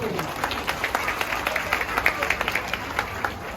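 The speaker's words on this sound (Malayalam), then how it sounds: "അതുകൊണ്ട് എല്ലാ ആളുകളും നല്ലൊരു കയ്യടി കൊടുക്കും." Crowd applause at a Vallanchira family gathering, a steady patter of many hands clapping at moderate distance with scattered sharper claps, mixed with low murmuring voices throughout.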